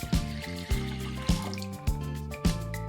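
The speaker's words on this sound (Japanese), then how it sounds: "砂出ししたアサリを洗います。" Purged clams being washed in water, giving a series of sloshing, splashing strokes with hard clacks of shells knocking together, repeating about every half second, close and clear with no talk.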